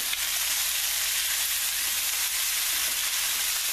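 Tomatoes and peppers cook down in a pan for Swiss steak, a steady close sizzling hiss that runs unbroken throughout, with a few soft stirring scrapes and no voices.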